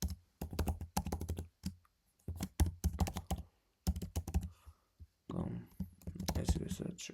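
Login details are typed on a computer keyboard in rapid bursts of close, crisp key clicks separated by brief pauses, with a faint thunk near the end.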